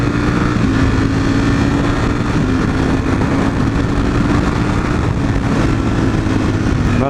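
A V4 motorcycle engine being broken in drones steadily at about 7,000 rpm, a loud, constant high-revving hum with no pauses or talk.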